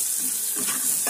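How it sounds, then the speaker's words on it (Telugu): Chopped onions and green chilies fry in a pan with a steady loud sizzle, close and continuous, a few stirring scrapes breaking through, no voices. "ఆనియన్ పచ్చిమిర్చి బాగా వేగాయండి"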